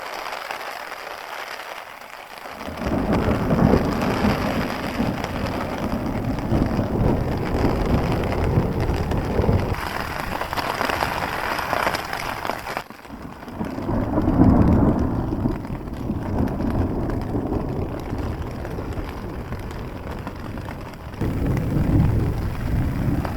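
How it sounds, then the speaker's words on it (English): Heavy rain and rolling thunder from an electric storm batter a wild camping spot on the Isle of Wight, with wind buffeting and loud rumbling bursts rising and fading over a constant downpour. "I never fail to be impressed by electric storms."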